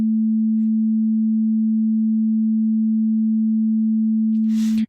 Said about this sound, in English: Here is how a single musical note, a sign representing the MIDI note 57, sounds without the vibrato.